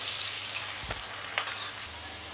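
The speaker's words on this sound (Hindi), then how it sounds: "अब इसमें ग्रीन चिली डालेंगे, फिर इसको थोड़ा सा भूनेंगे" Onion and green chili frying in a pan, a steady broad sizzle running throughout with a couple of brief stirring scrapes, close and moderately loud, no talking.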